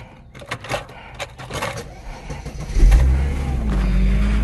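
An older car with an OBD1 system is started: a few seconds of light clatter and handling noise, then the engine catches and settles into a loud, steady idle close by.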